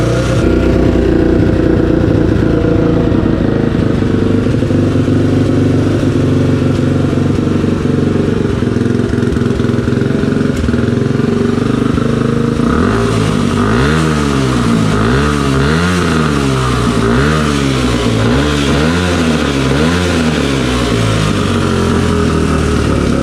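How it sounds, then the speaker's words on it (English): A 1992 Honda XR250L single-cylinder motorcycle engine running close up and loud, idling steadily before rhythmic throttle blips rise and fall in repeated revving waves. "and then I'll start it up"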